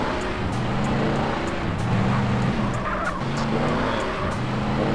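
A car in the video game PUBG driving fast, with a continuous loud engine roar and shifting tyre noise, rough and steady from start to finish with no talking.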